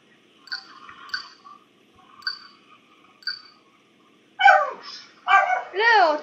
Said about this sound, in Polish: pies mi zaczął szczekać teraz